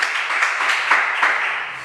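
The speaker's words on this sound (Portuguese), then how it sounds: "aplauda ao Senhor" A church congregation applauds the Lord during a Portuguese-language sermon service, a loud, steady round of clapping from many hands, even throughout without talk over it.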